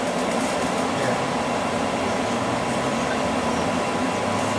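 A Crossrail Class 345 electric train bound for Shenfield rumbles along at speed. The low, dense roar of motors and wheels on track holds steady and loud throughout, with no voices.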